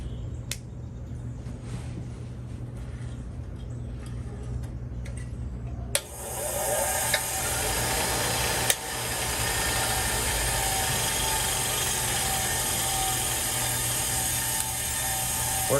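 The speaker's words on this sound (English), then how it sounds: "let's test this bench grinder we got" A used bench grinder from a tool haul switches on partway through and runs steadily: a loud, constant motor whine and hum that continues to the end, with faint mechanical noise before it starts.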